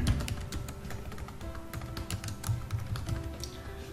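Steady typing on a computer keyboard while a field name is entered, giving a fast, continuous run of close, light key clicks over a low hum.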